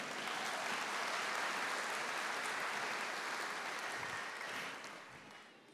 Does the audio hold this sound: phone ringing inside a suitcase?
no